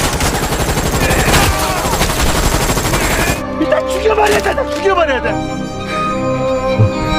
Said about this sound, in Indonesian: Tetapi Gisu mengambil senjata dan menembaki semua orang.